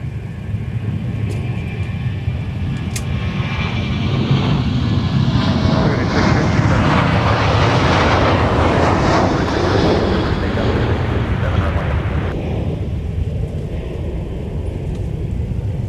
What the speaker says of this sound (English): Got another departure off to Grand Rapids, Michigan. It's Sun Country with a 737-800.